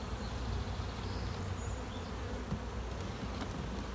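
Dense, steady buzzing of many honey bees around an open hive during an inspection, a continuous close swarm drone that holds level throughout with no talk.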